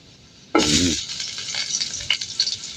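Fish frying in hot oil in a home kitchen, a loud sudden burst of spattering sizzle that settles into a steady crackle with a few sharper pops.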